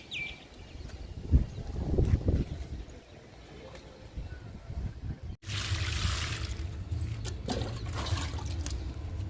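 Water splashes and gushes nearby while garden plants are watered, growing into a steady spraying hiss in the second half, with no talking.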